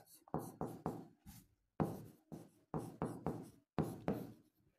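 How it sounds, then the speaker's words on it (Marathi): Chalk taps and scrapes on a board during a reasoning lesson, coming in quick clustered strokes of three or four with short pauses, close and crisp with no talk over them. "मी इथं लिहितो आज."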